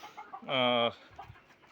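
A single loud, drawn-out call from a native hen rings out close by on a terrace, standing above a quiet background with faint murmuring.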